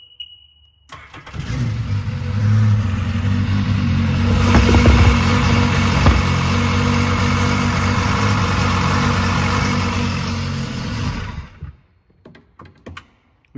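A 2002 SeaDoo GTX 4-Tec 155 jet ski engine cranks and catches after a short pause, then idles loudly and steadily for about ten seconds before shutting off, followed by a few faint clicks.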